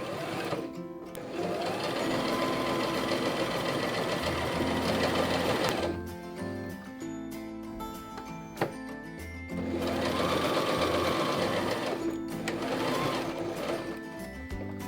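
A sewing machine stitches around the edges of puffy heart bunting in fast, steady bursts of close mechanical whirring, pausing briefly between runs with small clicks of handling.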